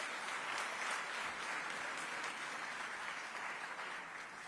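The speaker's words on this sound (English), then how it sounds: "Round of applause for our VVIPs." A summit audience applauds VVIP guests, a steady, dense wash of many hands clapping at a moderate distance, holding evenly throughout without voices.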